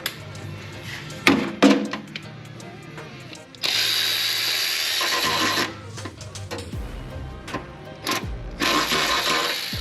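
Ratchet clicks and whirring mechanical bursts come from work under a 2014 GMC Sierra during removal of its broken transmission, loud and close, with rapid ratcheting runs broken by short pauses and clanks.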